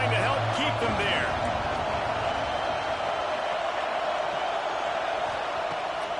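Steady roar of a football stadium crowd at a Michigan versus Washington game, a dense continuous wash of cheering and noise throughout with a brief whoop early on.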